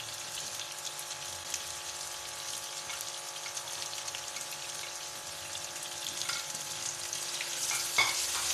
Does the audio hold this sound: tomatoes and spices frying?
yes